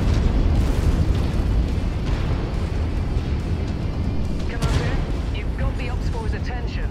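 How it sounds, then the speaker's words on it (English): Heavy cannon blasts and rumbling explosions from the mech combat game Mechwarrior 5, loud and continuous with overlapping booms, while a voice talks over the battle. "Let's get away from these giant cannons."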